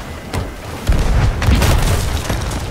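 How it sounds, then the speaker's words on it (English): A ship's cannon in the pirate video game Sea of Thieves fires with a muffled boom, followed by a rolling, rumbling blast tail that lingers to the end. "I blasted him off the cannon."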